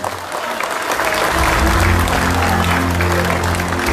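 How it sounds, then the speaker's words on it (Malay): Loud, sustained applause from a large audience at a political campaign launch event in Sabah, dense clapping building after a moment and continuing steadily throughout, with a faint tonal hum of music or feedback underneath. "berikan tepukan yang gemuruh untuk kita semua"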